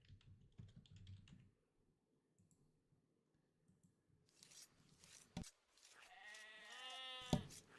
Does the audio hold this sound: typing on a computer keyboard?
yes